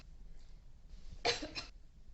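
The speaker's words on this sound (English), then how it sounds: "What is with all this coughing of yours?" A brief, faint pair of coughs comes from one person in a quiet room, two short dry bursts in quick succession against low background hiss.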